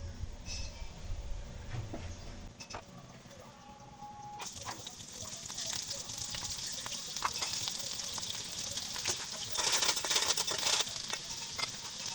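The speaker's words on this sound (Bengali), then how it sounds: "কড়াইতে তেল গরম দিয়ে দিয়েছি এখন পেঁয়াজ ঝাল আর সামান্য রসুন একসঙ্গে ভেজে নেবো" Steady crackling sizzle of food frying in hot oil, continuous throughout and growing busier and louder toward the end, with occasional clinks.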